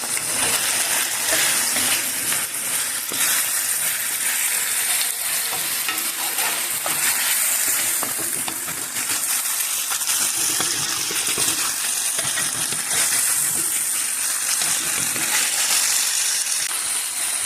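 Beef tibs with green pepper slices sizzle loudly in a pan for Ethiopian tibs, a continuous close frying hiss broken by scraping and clinking as the food is stirred.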